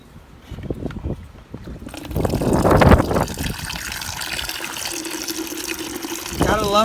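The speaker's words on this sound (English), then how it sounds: "drink this water coming out of this barrel" Fresh rainwater pours from a barrel into a container as a steady splashing wash that swells after a quieter start, with talking alongside it.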